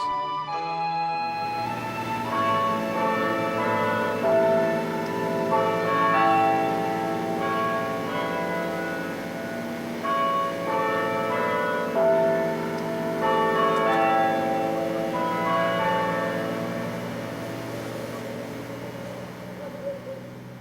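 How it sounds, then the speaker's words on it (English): The 47-bell carillon of St. Colman's Cathedral in Cobh, Ireland, rings out over the harbor, a steady, resonant melody of many tuned bells sounding continuously and fairly loud, with no talking. "a room with a view overlooking Cove Harbor and St. Colman's Cathedral, with its 47-bell carillon to serenade us"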